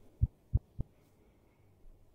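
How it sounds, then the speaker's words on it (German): Stethoscope heartbeat in the VR game EscapeVR: Trapped Above the Clouds: three low, muffled thuds in quick, slightly uneven succession, then quiet hum with no voices. "Oh, ich hab meinen Herzschlag!"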